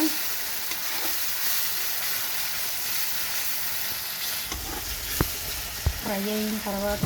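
Tomato frying in a pan for a chayote curry, a close, steady sizzle throughout, with a few sharp clinks and scrapes of stirring near the end.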